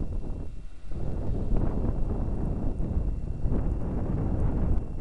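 Wind blowing across open ground on a cold, snowy winter day in Kincardine, a continuous gusty rumble buffeting the microphone, fairly loud and steady with no voices.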